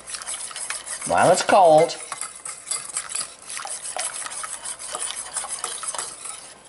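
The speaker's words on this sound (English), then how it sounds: "quarter of a cup of flour. Okay. And stir it up." A spoon stirs flour in a pot for chicken pot pie, scraping and rubbing in a continuous rhythm with a louder burst early on. A brief spoken phrase comes over it.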